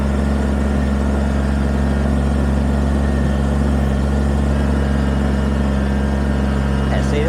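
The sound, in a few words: compact tractor engine running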